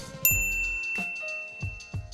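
Bright notification bell dings ring out in a quick series of three or four clear chimes, each with a short shimmering decay, close and alone with no talking.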